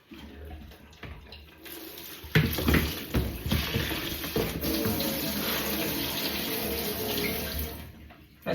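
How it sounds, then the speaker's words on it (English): Something gets rinsed under a running kitchen tap while washing up at bedtime, a short trickle swelling into a steady, loud gush of water splashing into the sink, alone without voices. "I better rinse that out."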